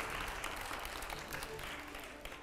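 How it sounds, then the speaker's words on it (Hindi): Audience applause at a televised interview show, a faint, distant patter of many hands clapping steadily over a low hum, with no talk heard. "जोरदार तालियां हो जाए एक बार"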